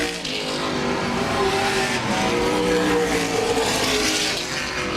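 Race cars lapping Laird Raceway during a Thursday night race, engines roaring loudly as they pass with shifting whines and a tire squeal, a dense continuous sound with no talking.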